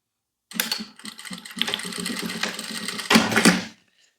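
A sewing machine stitches fabric for a slipper holder, running in short bursts and then steady, close-up, with a louder final run before it stops.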